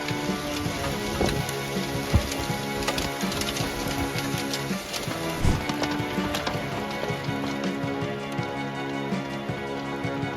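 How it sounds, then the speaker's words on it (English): Steady, dense downpour of heavy rain and hail during a storm in Glen Rose, Texas, pattering and clattering on surfaces with scattered sharper impacts, loud and continuous throughout. "a storm brought heavy rain and hail, endangering drivers and damaging property"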